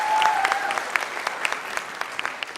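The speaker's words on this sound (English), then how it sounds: "So they need a big round of applause" An audience at a Mr. & Ms. Rotaract pageant finale gives a burst of applause, a dense patter of many hands clapping at mid distance that tapers off slightly, with a brief tonal whine early on.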